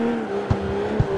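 A BMW E92 drifts in the CarX Street racing game, its steady engine drone carrying a faint tire squeal and two soft thumps in a brief, close burst.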